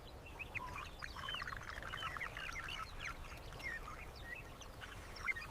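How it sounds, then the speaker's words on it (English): A hornbill gives soft, repeated calls once an eagle has gone, in a quiet outdoor setting with faint background ambience and no voices. "Only after the eagle disappears does the hornbill switch to softer calls."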